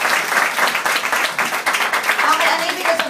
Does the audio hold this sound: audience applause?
yes